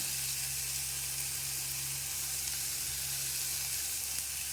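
Onions sautéing in a pan for paniyaram give a steady, close, even sizzle that runs for the whole stretch with no talk over it.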